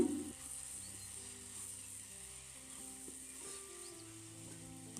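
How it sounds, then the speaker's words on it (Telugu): Broad beans sizzling faintly in a pan with salt and peanut powder, a soft, steady frying crackle heard up close and alone, with no voices. "వీటిని కొద్దిసేపు ఇలానే ఫ్రై చేసుకోవాలి"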